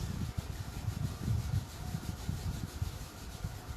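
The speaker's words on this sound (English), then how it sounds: "again rub the palms." Palms rub together in soft, continuous swishing strokes, quiet and close, during a guided relaxation session, with no talking over the sound.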